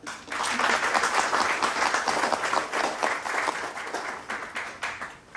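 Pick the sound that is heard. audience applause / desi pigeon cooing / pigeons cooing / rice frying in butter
audience applause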